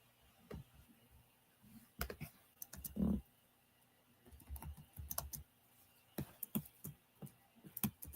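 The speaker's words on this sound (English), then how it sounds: "that brother typing crazy over there" Fast bursts of computer keyboard typing click and tap in irregular flurries, fairly faint and slightly distant, in a quiet room without speech.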